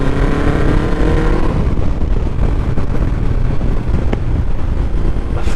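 Big-bore motorcycle such as a Yamaha XJR 1200 or Suzuki GSX 1400 opened up hard from about 40 mph in a high gear, its engine roar loud and sustained under heavy wind buffeting at the microphone.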